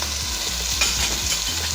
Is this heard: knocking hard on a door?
no